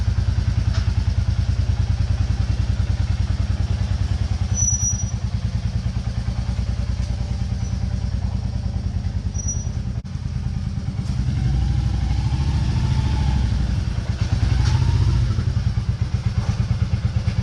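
Royal Enfield Classic 350 Reborn motorcycle on a ride, a loud, steady low engine thump with rhythmic pulsing throughout and a brief dip midway, no talking.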